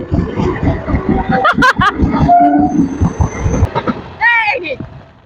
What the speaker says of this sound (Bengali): এই দেখো একটা ট্রেন চলে গেল, আর একটা ট্রেন ঢুকে গেছে।